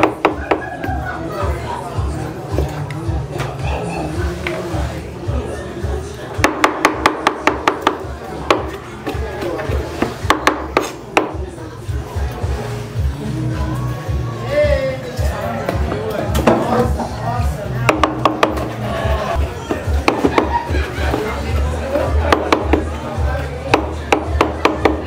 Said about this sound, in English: finally chopping up that conch